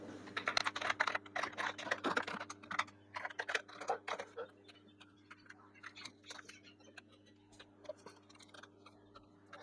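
Someone types R code on a computer keyboard, making quick, light clicking keystrokes in uneven bursts that thin out toward the end, under a steady low hum.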